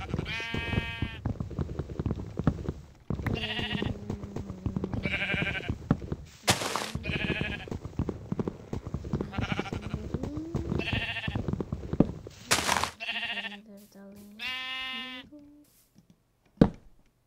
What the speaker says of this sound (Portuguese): Está aqui uma ovelha.